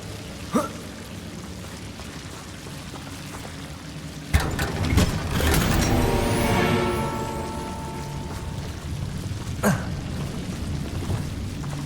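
A Confringo blasting spell in the Hogwarts Legacy video game explodes in a loud, sizzling burst that rumbles on for a few seconds, with sharper cracks before and after.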